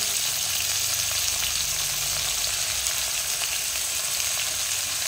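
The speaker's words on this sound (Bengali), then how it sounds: "ভালো করে ভেজে তুলে নেব, একদম যাতে ভাজাটাই সিদ্ধ হয়ে যায় সেইভাবে ভেজে নেব" Bitter gourd pieces seasoned with salt and turmeric fry in a pan, giving a steady, loud, even hiss of oil with no pauses and no voices.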